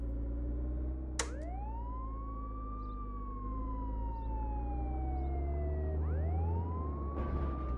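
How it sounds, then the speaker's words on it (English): A police car siren wails in the video game Contraband Police, sweeping up and down in long rising and falling tones over a steady engine hum, with a short sharp blip at the start and another near the end. "Lights on for safety and siren on"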